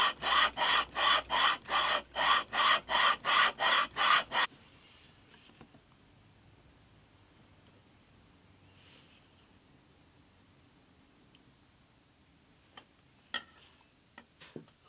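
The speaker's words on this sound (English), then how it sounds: "polish on some 120 grit, just to, as these will be the final surfaces" A guitar head block being sanded on 120 grit sandpaper, about a dozen steady, evenly spaced rasping strokes close up for several seconds, followed by a quiet room with a few faint knocks.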